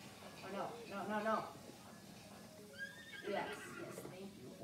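A horse from the video game The Legend of Zelda: Breath of the Wild neighs and snorts in a few short whinnying bursts over game ambience, with a person talking in between.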